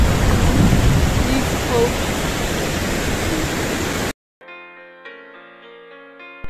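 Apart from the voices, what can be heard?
water flowing over a weir on the River Ribble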